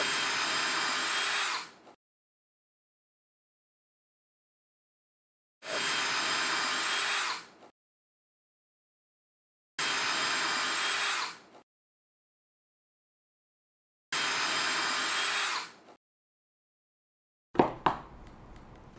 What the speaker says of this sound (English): Next, drill 4 small holes at each corner of the board.